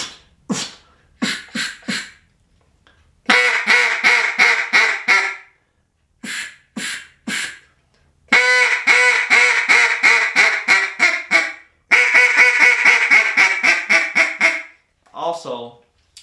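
A duck call blown with warm, foggy breath runs through clear quacks and rapid rolling chatter strings, loud and close, broken by short pauses and ending in a brief higher note.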